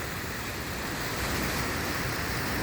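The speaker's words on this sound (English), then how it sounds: "usually dry Santa Ana Riverbed is flowing like crazy. It's an actual river." The Santa Ana River runs fast and high after a storm, a loud steady rush of churning water mixed with wind buffeting the microphone, with no voices.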